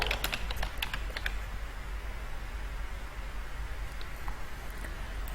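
Soft, rapid keyboard typing clicks in quick bursts, then sparser taps over a low steady hum.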